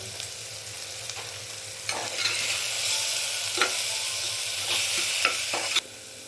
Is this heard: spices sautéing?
yes